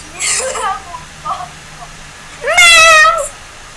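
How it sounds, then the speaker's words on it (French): A cat meows twice, a short mew followed by a louder, drawn-out meow, with a quieter vocal sound in between. "on a entendu ton Lulu miauler"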